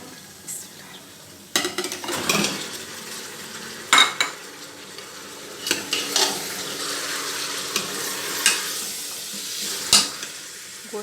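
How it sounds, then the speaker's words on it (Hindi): Mutton goes into softened fried onions in a karahi, bringing a quiet sizzle with scraping stirs and occasional metal clinks of utensil on pan, faint and close throughout. "अब सॉफ्ट करने के बाद मैं इसके अंदर गोश्त ऐड करूँगी।"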